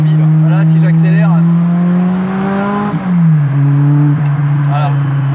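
A car engine pulls in second gear, a steady loud drone whose pitch climbs and then shifts after a brief dip, with a voice speaking over it.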